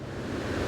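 Pacific surf pounds a low island shoreline during a king tide, a dense, steady roar of breaking waves, very short and fairly close.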